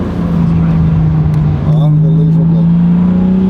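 A BMW G82 M4 Competition xDrive, custom tuned, revving steadily while drifting, its loud sustained exhaust drone close by with faint crackling pops, as people talk excitedly over it.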